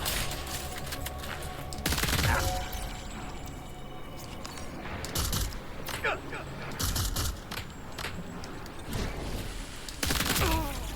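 Bursts of assault rifle fire rattle out in the video game Death Stranding 2, several loud volleys spaced across the clip with mechanical clicks between them.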